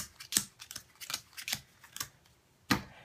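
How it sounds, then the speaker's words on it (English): Deck of game cards for the board game Rights being shuffled by hand, producing a quick series of crisp, close riffling snaps and flicks in an irregular rhythm, with no talking. "you shuffle these up and you give each player 3 cards"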